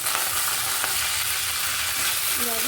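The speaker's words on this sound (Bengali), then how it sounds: "প্রথমে আমরা ডাঁটাগুলোকে হালকা একটু ভেজে নেব।" Vegetable stalks fry lightly in mustard oil in a wok with a steady, close, dense sizzle and a few soft stirring touches, with no talking.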